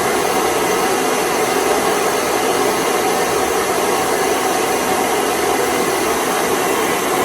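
A torch roars loudly and steadily as it heats the end of a copper tube to form a socket joint, an unbroken rushing hiss with no talk over it.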